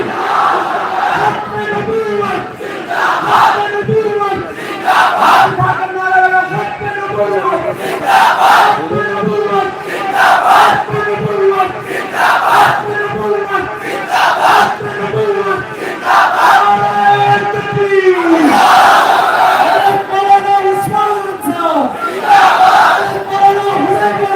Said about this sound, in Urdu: زوردار نعرے سے استقبال فرمائے. نعرہ تکبیر, نعرہ تکبیر